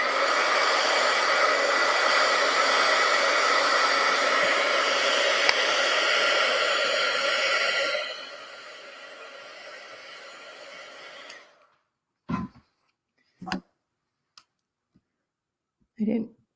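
A handheld hair dryer blows steadily on painted art journal pages, a loud close whooshing roar that drops to a lower setting before switching off, followed by a few scattered clicks and handling sounds.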